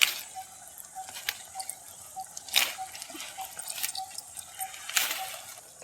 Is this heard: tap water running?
yes